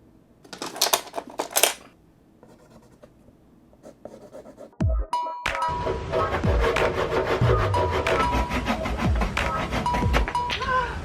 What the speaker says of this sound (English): It's time to saw.